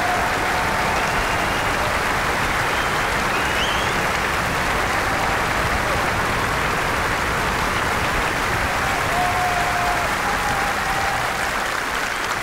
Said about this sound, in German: Geben Sie sich noch einen riesigen Applaus